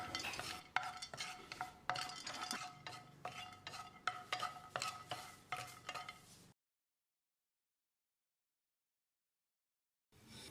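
A few small pieces of asafoetida are dry-roasted in a pan, a spoon scraping and stirring in quick repeated strokes for several seconds before everything falls silent, then a brief return of sound at the end.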